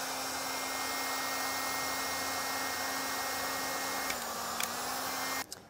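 Steady whooshing hum of a heat gun held on heat shrink butt connectors during a trailer breakaway switch wiring job, running continuously at close range with a slight shift in tone near the end before it cuts off.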